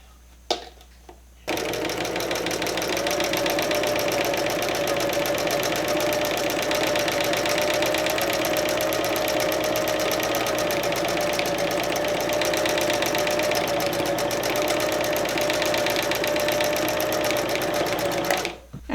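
A sewing machine stitches a quilt in one long continuous run, a fast steady mechanical whir and clatter up close that starts abruptly and stops near the end.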